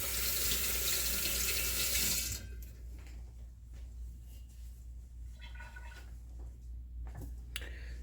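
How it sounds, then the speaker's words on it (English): A kitchen tap runs strongly for about two seconds while hands are rinsed, then shuts off, leaving quiet room tone with a few faint clicks and small handling sounds. "rinse my hands real quick."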